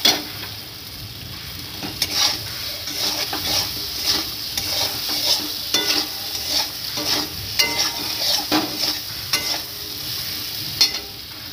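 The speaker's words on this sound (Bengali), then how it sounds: "আর দিয়ে দিলাম লঙ্কা গুঁড়ো এবার ভালো করে কষিয়ে জল দিয়ে দেবো" Spices with chili powder sauté in a pan, a continuous sizzle broken by repeated scraping and tapping of a spoon stirring them, close and regular, with no talk.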